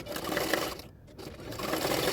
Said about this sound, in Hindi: नेक की किनारे किनारे पे सिलाई डाल दूंगी मैं।